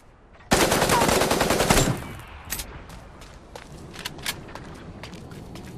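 A dense burst of rapid automatic gunfire in Super Mecha Champions lasting over a second, then scattered sharper shots and clicks at a distance over a faint background.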